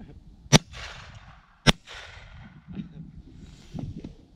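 Two sharp Victory Day fireworks salute bangs ring out outdoors about a second apart, each followed by a crackling fizz, with faint murmuring and rustling afterward.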